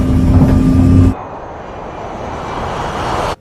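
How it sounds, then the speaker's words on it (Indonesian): Airliner engines roar loudly as the plane rolls down the runway and lifts off, a steady broadband rush that drops suddenly to a quieter, even drone partway through before swelling slightly again. "Pesawat pun kini mulai bergerak dan meninggalkan landasan pacu."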